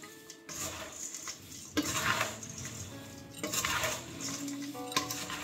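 A spoon stirs spices through poha chivda in a pan, giving repeated close scraping and light clinking strokes against the metal, with no talk.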